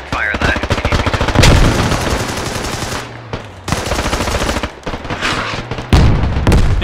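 Machine gun fire in a squad-based video game, loud rapid bursts with heavy booming impacts, continuous and close, with voices talking over the shooting.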